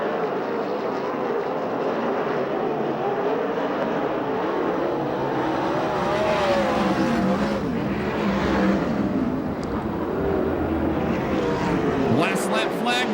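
Dirt-oval sprint cars in a USAC/CRA season-opener race, engines roaring steadily and loud from start to end, blended with a crowd and a commentator talking over the din.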